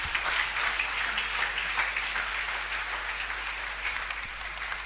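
A church congregation applauding Jesus Christ during a Sunday service, a dense, steady wash of clapping from many hands that fills the whole stretch evenly.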